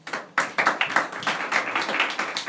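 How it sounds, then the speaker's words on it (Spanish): A small audience at a theology talk claps in a quick, irregular patter of individual hand claps, close and moderately loud, carrying on without pause. "Un aplauso."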